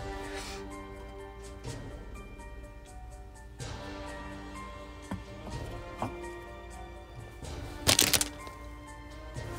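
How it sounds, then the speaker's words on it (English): Parchment paper covering a craft desk crinkles and crackles in repeated close, irregular bursts, with one sharper, louder rustle near the end. "I'm sorry about the crinkling."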